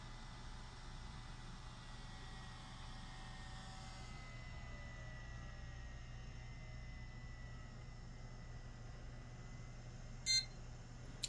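A short electronic beep sounds once near the end as an AMD Threadripper TRX50 computer boots, preceded by a steady low hum of fans and a quiet electronic whine.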